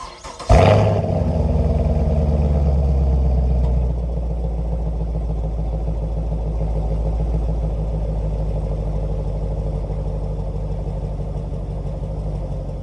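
A stock-exhaust Chevrolet Camaro with quad pipes cranks and fires up with a loud burst, then settles into a steady, close, rumbling idle that drops slightly after a few seconds.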